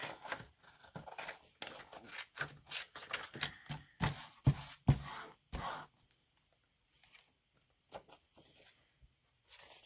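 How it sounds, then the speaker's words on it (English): Crisp snipping and slicing of glitter napkin paper by scissors, a quick irregular series of cuts with rustling between, close up, then quieter sparse handling. "definitely a scissors project"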